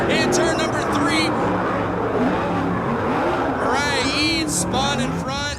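Sprint race cars roar around the dirt track at Merced Speedway during a NARC King of the West race, engines rising and falling in pitch as they pass, loud and continuous under a commentator's voice.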